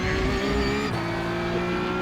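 A Porsche Cup race car in the iRacing sim at Fuji screams at high revs, a loud steady engine whine that drops in pitch at a gear change and climbs again, with no talk over it.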